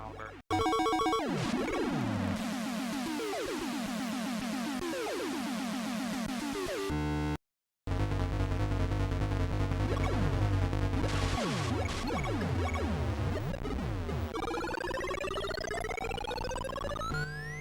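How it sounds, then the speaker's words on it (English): Harsh, glitchy electronic tones from the Intellivision game Wizard of Wor sweep up and down in rapid, looping glides, breaking off briefly and then resuming with rising pitch sweeps. "the tone keeps getting louder and louder until it either wraps back around and starts over at a lower tone"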